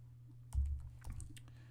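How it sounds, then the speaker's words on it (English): Gloved fingers tap a computer keyboard in a cold office, a few soft, muffled keystrokes in a short cluster, quiet and close over a faint steady hum. "I'm wearing gloves as I'm typing."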